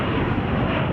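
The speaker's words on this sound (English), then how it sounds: "KLM flight 611 from Amsterdam. It is a 777-200 ER today." A KLM Boeing 777-200ER arriving from Amsterdam at Chicago O'Hare gives a brief, loud, steady jet-engine rumble, close and unbroken for about a second.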